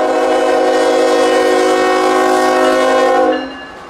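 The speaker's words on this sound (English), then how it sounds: "Rolling into its Jacksonville destination was QO31, container and trailer traffic out of North Bergen, New Jersey" A freight train carrying container and trailer traffic arrives at Jacksonville, its horn blaring in a loud, sustained chord for over three seconds before cutting off, leaving the rolling rumble of the cars.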